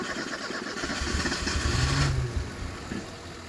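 A 1986 Ford Mustang SVO engine running rough just after a cold start, a steady low rumble that swells toward the middle and then eases back to a near idle.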